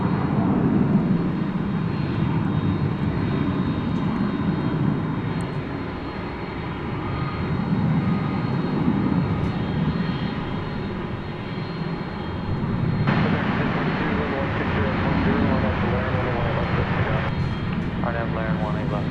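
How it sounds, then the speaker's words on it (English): A FedEx MD-10 jet departs a DFW runway at night on one of its final flights before retirement, a steady, broad engine roar holding loud throughout with gradual swells, while people talk faintly underneath. "an MD-10 of FedEx making one of its final flights before it was retired"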